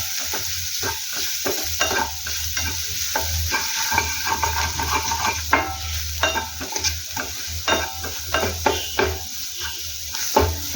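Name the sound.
onions frying in a pan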